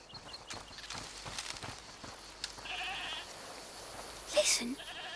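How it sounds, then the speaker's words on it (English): A goat bleats once amid a busy ambient soundscape in the video game A Plague Tale: Requiem, a short nasal cry rising over steady background noise and faint footsteps. "Is that the goat he talked about?"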